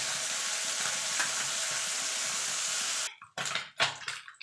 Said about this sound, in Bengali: মাছগুলো একটুখানি কড়া করেই ভাজবো।